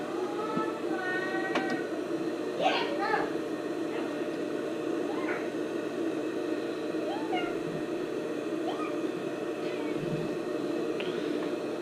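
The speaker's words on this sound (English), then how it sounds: "my cat yelling in the background" Pet cat meowing in the background of a home sewing session, several short rising meows spread across the clip, faint and distant under a steady room hum.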